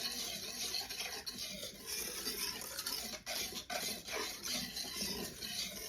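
Vanilla extract stirred by hand into a chocolate pie filling in a bowl, a soft continuous scraping and swishing with a steady back-and-forth rhythm, close and fairly quiet.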